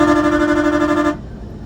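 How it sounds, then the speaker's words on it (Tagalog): A vehicle horn blares in one steady, loud, sustained honk on a Vietnamese expressway, cutting off abruptly near the end and leaving low road rumble. "Grabe sila magbusina sa Vietnam."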